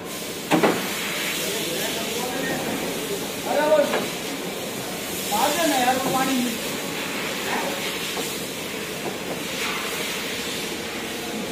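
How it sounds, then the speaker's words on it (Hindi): Compressed air blown into the engine bay of a Mahindra Thar RWD during its first service, a steady loud hiss continuing throughout with occasional speech and clatter in the workshop. "ये बंदा इंजन के अंदर हवा मारेगा अच्छी तरीके से"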